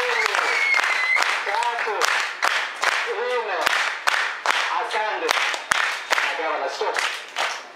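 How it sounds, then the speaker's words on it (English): An audience claps for Governor Ali Hassan Joho at an APDK gathering, steady applause running throughout and mixed with loud voices and cheering over the top. "I want to just ask all of us to clap for the Governor in thanksgiving"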